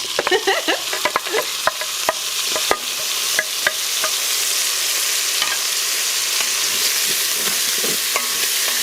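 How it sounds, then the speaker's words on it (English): Garlic, onion, tomato and jalapeño sauté in an Instant Pot, a steady hot sizzle running throughout while a utensil stirs and scrapes the pot in frequent sharp clicks, loudest in the first half. "Once you mix your ingredients, allow it to saute for another 2 minutes."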